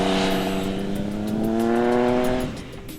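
Triumph Speed Triple R motorcycle engine revving hard, a loud harmonic engine note that climbs steadily, holds, then drops off near the end.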